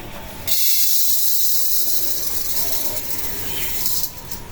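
Mung dal and black gram lentils sizzle in a hot karahi, a steady bright hiss that starts abruptly and holds loud and close for several seconds with no talk.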